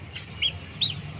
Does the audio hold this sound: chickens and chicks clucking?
yes